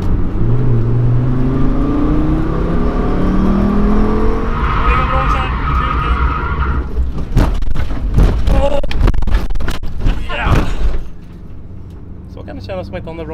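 A Volvo S60 T5 pushed hard on a race track at GTR Motorpark in Eskilstuna, engine droning and climbing under load with rattling, clunking impacts midway, then dropping away to a quieter idle near the end.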